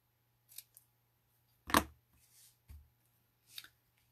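Scissors cut a paper banner down the middle and in from the corners, with a few crisp separate snips and one longer slice near the start, close and clear over a quiet background hum.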